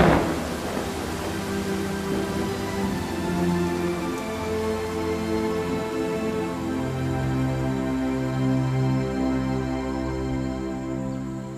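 Heavy rain pours steadily with rolling thunder in a storm effect for a Vietnamese audiobook, loud and continuous throughout, with low rumbles swelling under a dense hiss of rain and no voices.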